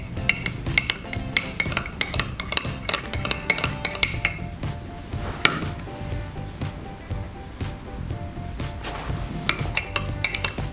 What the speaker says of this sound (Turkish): Şimdi hoisin sosumuzu şöyle bir karıştıralım.